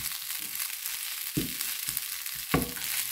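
Idli upma stirred in a pan, soft frying sizzle with a few scraping stir strokes, close and fairly quiet, no talking.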